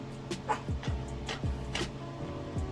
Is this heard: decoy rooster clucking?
no